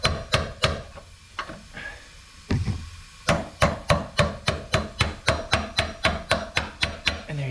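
A hammer strikes a long screwdriver to knock loose the metal retaining ring on a 2013 Kia Optima outer tie rod: a few scattered blows, then a steady run of sharp, evenly spaced metallic taps, close and alone.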